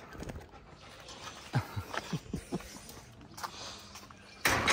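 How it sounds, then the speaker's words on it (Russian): An East European Shepherd dog pants and snuffles close by in a short series of quick breathy huffs, fairly quiet, with faint background noise and a brief louder rustle at the end. "Хорошая, восточная, европейская овчарка."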